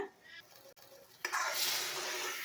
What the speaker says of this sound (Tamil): இப்போ நம்ம பொட்டுக்கடலை தூளில் கலந்த அந்த தண்ணி இதோட சேர்த்துக்கலாம்